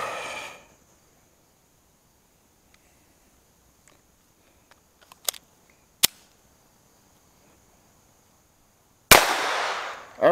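A rifle fires a CCI Mini-Mag round on an outdoor range, one loud sharp crack standing out from a quiet background with a few fainter pops and clicks around it.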